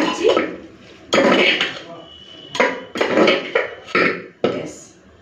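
A spoon clanks and scrapes around a metal pot as ghee is mixed into banana flower curry made in a pressure cooker, in several distinct bursts of close, loud stirring.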